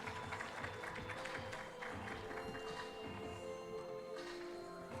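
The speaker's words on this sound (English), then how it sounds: "one more time, a round of applause for our guest of honor and the team of ERTC" An audience at an evening magazine launch gala applauds in a steady, dense patter of many hands that holds for several seconds without a break.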